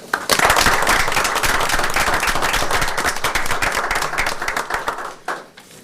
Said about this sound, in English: let's give Auditor Scott a round of applause